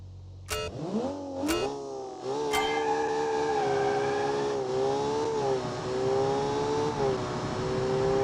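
A 3.2-liter turbocharged inline-six with 376 horsepower in a mid-engine rear-drive BeamNG.Drive car revs up through three quick gear changes, then holds a steady, loud drone with slight rises and dips in pitch.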